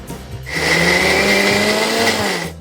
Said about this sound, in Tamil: அதே மிக்சி சாரில் இந்த சும்மா ஒரு ஒரு சுத்து மட்டும் இதை போட்டுக்கலாம்